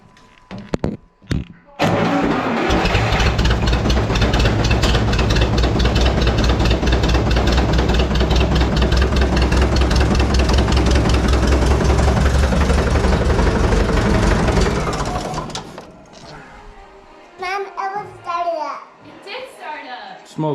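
An International skid steer's engine with a new fuel line and a poorly working carburetor catches and runs roughly and loudly for about thirteen seconds, then dies away, followed by people talking.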